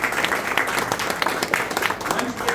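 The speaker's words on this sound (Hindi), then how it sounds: "हमारे मिस्टर अभिषेक श्रीवास्तव जी, एक बार जोरदार तालियां।" Theatre audience applauding after a stage play in Hindi, a dense, steady patter of many hands clapping at moderate volume with some voices mixed in.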